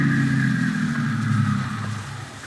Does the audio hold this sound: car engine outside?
yes